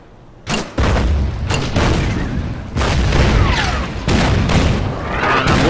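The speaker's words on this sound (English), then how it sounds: "And I'm really tired of that artillery." Artillery in the Order of Battle strategy game, set in the Winter War on the Karelian Isthmus, booms loudly again and again. Deep, heavy blasts with rolling tails come in quick succession over several seconds.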